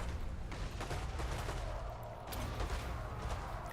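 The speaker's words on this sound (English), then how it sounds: "Smacked in the face by artillery again" Artillery barrage in a Warhammer Orks video game, a dense, rumbling wash of overlapping booms and crackling blasts that continues without pause, loud and low-heavy throughout.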